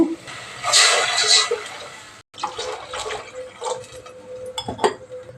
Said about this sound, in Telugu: దీనికి రెండున్నర గ్లాసు నీళ్ళు వేసుకుందాము